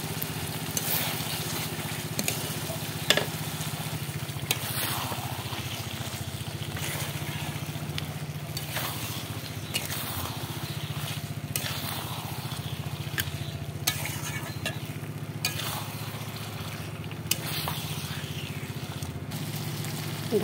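Chicken frying and being stirred in a spice masala: a steady, fairly quiet sizzle with soft scraping stirs and occasional light clinks, no talk.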